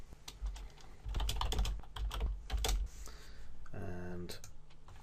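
Typing on a computer keyboard to enter a security question while signing up for a Gmail account, a quick burst of close key clicks, followed by a short electronic tone.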